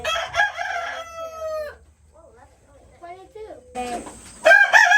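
Spring laying hens on a home food-growing homestead cluck and call close by, with a rooster-like crow and bursts of fowl vocalizing interrupted by a quieter pause.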